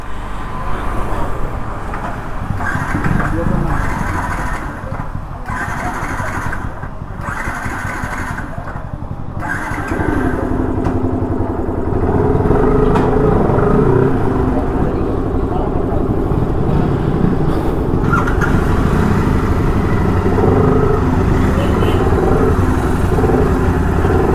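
A Yamaha R15 V2 motorcycle is ridden, its engine droning steadily and growing louder and rougher midway as it pulls away, with someone talking over it.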